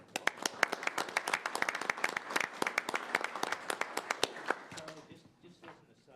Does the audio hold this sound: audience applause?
yes